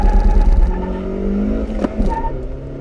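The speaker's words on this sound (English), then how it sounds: "If I rip it, I'm gonna get tire squeal in first and second." A 2018 Kia Rio with a six-speed manual accelerating hard, engine revving and whining loudly up through the gears with a rising tone and a brief shift break, close and without talk.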